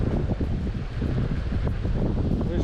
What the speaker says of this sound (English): Wish the wind would stop.